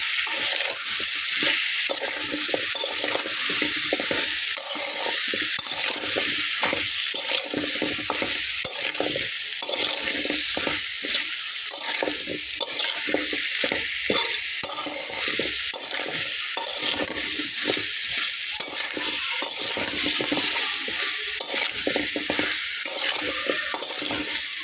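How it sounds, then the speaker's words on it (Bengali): Taro root curry with fish and red chili sautéing in a pan, a steady loud sizzle with repeated stirring scrapes running throughout, no talking. "খুব ভালোভাবে কষিয়ে নিতে হবে।"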